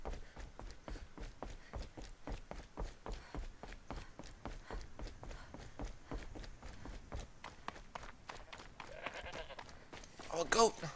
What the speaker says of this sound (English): Oh, a goat!